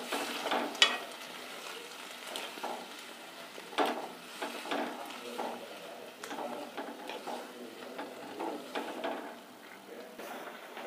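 Broad beans masala being stir-fried in a pan, with a steady sizzle running throughout and repeated scraping, clinking stirs from a ladle at an irregular rhythm, close and moderately loud, with no talk.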